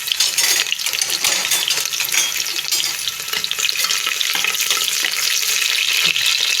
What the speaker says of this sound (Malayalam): ഇപ്പം ഞാൻ അത് മൂത്ത് കഴിഞ്ഞപ്പം ഇത് ഒരു ചെറിയ സവാള ഉള്ളി അരിഞ്ഞിടുവാണ്.